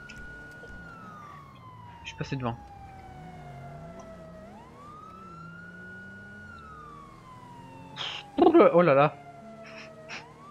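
A wailing police siren sweeps up and down continuously in a GTA V police patrol, loud and steady, while someone speaks French over it in short bursts.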